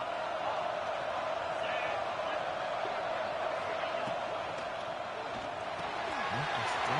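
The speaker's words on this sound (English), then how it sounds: "Crowd really getting into it here in the final minute." A college football playoff stadium crowd keeps up a steady, broad roar of cheering throughout the final minute, with commentator speech over it.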